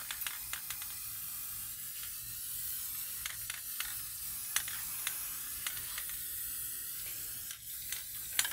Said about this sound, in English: just generic spray paints from your regular hardware store.